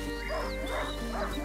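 Lyon, a hunting dog in the video game A Plague Tale: Innocence, lets out a few quick, fairly faint barks and yips over a steady background hum.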